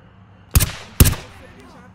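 Two loud, sharp gunshots in the game Zero Hour, about half a second apart, each punchy and close with a short echoing tail afterward.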